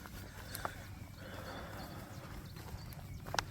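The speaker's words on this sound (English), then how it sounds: "Oh, there's more horses. There's 2 horses." Horses walking along a path on a countryside walk: scattered clip-clop hoofbeats and a brief whinny over a steady outdoor background, at moderate distance.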